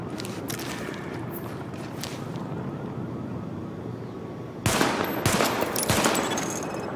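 Rapid automatic gunfire in The Division weapon test, a dense sustained burst followed by a louder, sharper volley of shots near the end, with no talk.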